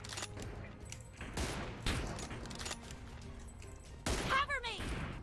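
Bursts of rapid gunfire crack out in PUBG Mobile, several sharp volleys spread across the moment at moderate distance, mixed with game effects and a player's voice speaking in between.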